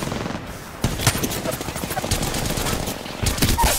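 Sustained automatic gunfire in a video game rattles in fast, dense bursts with almost no pauses, loud and close, with faint voices occasionally under it.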